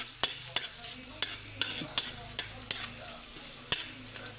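Ginger frying in hot oil in a pan gives a soft, steady sizzle, with sharp scrape-and-tap clicks of a utensil stirring every half second or so.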